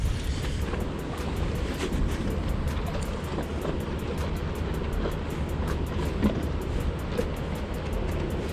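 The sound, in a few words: wind at the waterside while fishing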